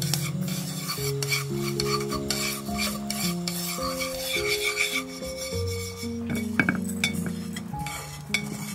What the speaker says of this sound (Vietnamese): Cho 50g mè vào chảo. Rang lên cho đến khi mè thơm vàng là được nè.